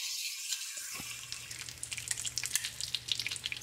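Bacon frying in a pan on the stove, a steady bright sizzle with crackling pops that swells after a short quieter start, heard up close with no talking.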